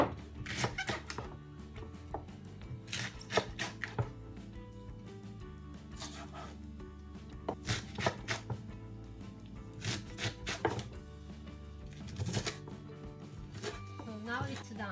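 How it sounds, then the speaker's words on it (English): Fresh chives are chopped with a knife for gyoza filling, giving clusters of quick, crisp blade taps in an uneven rhythm, close by, over a steady musical background. "So I'm going to chop the chive."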